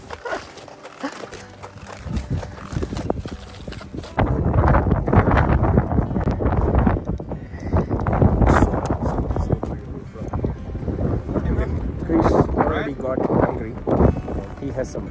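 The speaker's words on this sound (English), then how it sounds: "it's super windy here on top" Strong wind on a snowy hilltop in the Black Forest, a heavy, continuous roar and buffeting against the microphone. People talk throughout.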